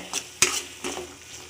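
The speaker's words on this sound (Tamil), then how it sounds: "இதை போட்டு கொஞ்சம் கிளறிக்கோங்க." Tomato ketchup and masala are stirred in a pan: a few short scraping strokes of a utensil against metal, close and brief, with a soft sizzle between them.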